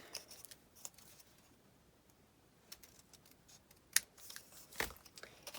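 Scissors snip paper hinge pieces for a mini album box, giving quiet, sparse clicks and short cutting sounds with brief pauses between them.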